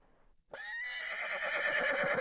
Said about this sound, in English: Nicolas Cage neighs like a horse before jumping out of a 4th-story window.